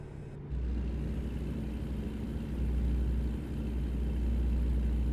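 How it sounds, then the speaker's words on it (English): A car overtaking a truck in a truck-driving video game, heard as a steady low engine drone and road rumble that swells slightly as the car goes by, with no talking. "Oh, now a car's going to pass me."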